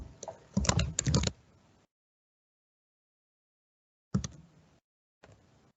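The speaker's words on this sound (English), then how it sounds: "So we'll type wireshark.org." Typing on a computer keyboard to enter a website address: a dense burst of key clicks, then two shorter separate bursts after a pause, close and clear with no talk.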